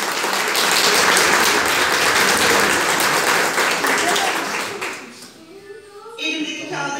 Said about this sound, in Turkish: Bir alkış isterim.